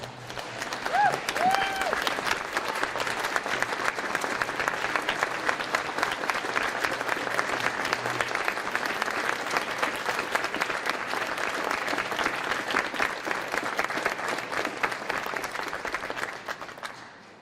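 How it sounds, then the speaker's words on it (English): A standing graduation audience for an aviation maintenance technology class gives sustained, dense applause that stays full and even before fading at the close. "give them a round of applause"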